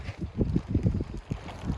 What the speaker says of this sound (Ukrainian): А зараз такий дує вітер, що ці дуги гне, вони ледь тримаються